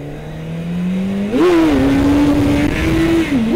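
A motorcycle engine climbs in pitch as the rider throttles up into a wheelie, then holds a loud, steady high rev close by with wind noise, dipping briefly near the end.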